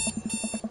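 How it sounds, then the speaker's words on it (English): An alarm clock goes off with a rapid string of bright electronic beeps, loud and close, alone with no voices. "I jolt awake to the sound of my alarm."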